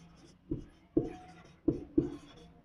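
A Sanskrit word is handwritten, probably with chalk on a board, in four sharp tapping strokes spaced unevenly over a few seconds in a quiet room with no speech.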